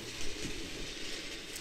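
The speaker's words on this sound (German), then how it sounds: "Und dann fährt der Zug los." Cheap toy model train starting off on its track, giving a brief, steady mechanical whirring and rattling that runs continuously at moderate level with no talk.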